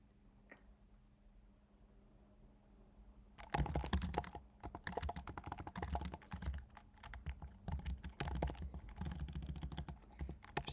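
Rapid typing on a computer keyboard while writing code, starting after a few seconds of near silence and then continuing as dense, uneven bursts of close, crisp key clicks with brief pauses.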